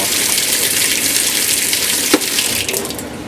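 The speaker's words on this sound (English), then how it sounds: "warm water flow." Warm water gushes loudly and steadily from a tap through FloodSafe washing machine hoses, a constant close rushing flow with a brief knock near the end.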